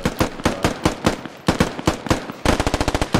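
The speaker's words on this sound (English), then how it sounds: "War Daddy's going to take a shot." Rapid gunfire in a military video game, dense bursts of automatic weapon shots crackling continuously, loud and close, ending in a faster sharp volley with no speech over it.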